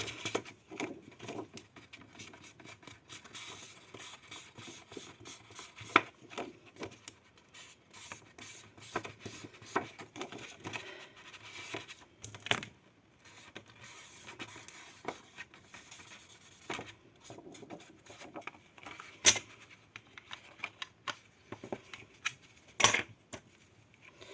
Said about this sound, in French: Si je mets pas d'encre, ça va pas le faire. Donc j'ancre mes bords.